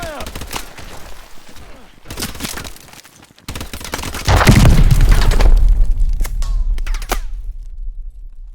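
Gunfire and explosions in the Call of Duty: Advanced Warfare game, loud bursts of shooting with a heavy boom near the middle and a rumbling tail, voices shouting over the fighting.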